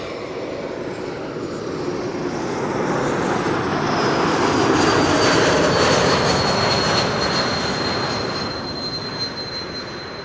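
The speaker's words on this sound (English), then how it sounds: "E2 Embraer 195, KLM flight 1704 arriving from Brussels." A KLM Embraer 195-E2 jet arriving from Brussels roars steadily as it approaches, swelling to a loud broadband rush mid-pass with a thin whine on top, then easing off, with no voices.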